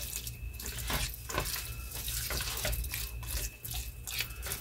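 Bean cooking liquid is poured into a pan of chorizo, giving a steady splashing, sloshing pour with light drips, close and without talk.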